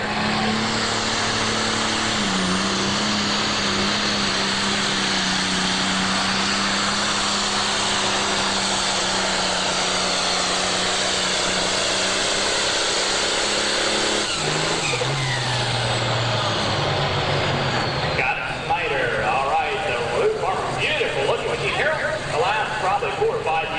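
A John Deere pro stock pulling tractor from Edison, Ohio roars at full power during a 1988 Ohio State Fair tractor pull, its loud sustained engine drone shifting pitch midway as it builds boost, under an announcer's running commentary.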